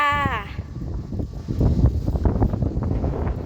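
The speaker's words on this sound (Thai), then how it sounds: "โอ้ยลม" Strong wind gusts buffet the microphone on the third-floor viewpoint of a Buddha footprint temple in Mukdahan, a steady rough roar that rises and falls, with a brief tonal sound at the very start.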